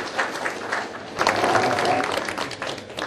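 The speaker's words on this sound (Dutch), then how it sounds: "Applaus, dames en heren." Audience applause at a Veenendaal bee market prize presentation, a close, loud burst of clapping that swells after a second and then stays dense, with a faint tone in the middle.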